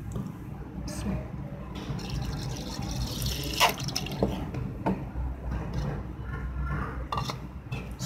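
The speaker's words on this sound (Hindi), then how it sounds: "थोड़ा सा दूध इसमें शामिल करेंगे।" Milk being poured into a yogurt marinade for mutton raan, a soft liquid splashing and trickling under a voice speaking throughout, with faint clinks of kitchen utensils.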